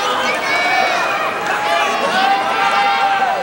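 Loud, sustained crowd roar at a professional wrestling match in Kuramae Kokugikan, Tokyo, continuous cheering and shouting filling the hall with a commentator speaking over it.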